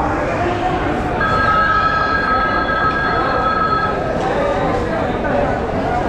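The Mahalaxmi Express rumbles steadily into Kolhapur railway station with a sustained metallic wheel squeal, amid a busy, noisy background with voices.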